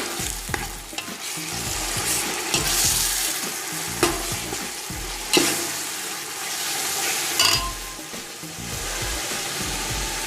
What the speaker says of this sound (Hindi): धनिया पाउडर, इसको हम मिलाएंगे।